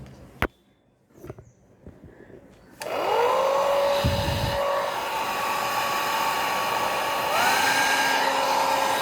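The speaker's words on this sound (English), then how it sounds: "now we'll check whether the fan and the motor and stuff is working or not" After a few handling clicks and knocks, a small electric fan and motor that were just reassembled switch on and run with a loud, steady whirring whine that wavers slightly in pitch.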